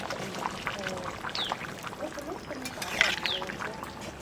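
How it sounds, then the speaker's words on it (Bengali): Tamarind water and sugar are poured into a simmering sour vegetable curry, giving soft liquid splashing and trickling amid faint kitchen clatter, with a person talking over it. "এইবার তেঁতুলি জল আর চিনি দিয়ে দেবো।"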